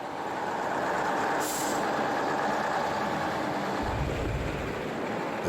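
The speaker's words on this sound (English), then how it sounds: "they start a second attempt at getting the articulated lorry across the hill" A 35-ton articulated lorry labours up a snowy hill on an Arctic road, its engine droning steadily close by, with a brief hiss partway through and a deeper rumble swelling near the end.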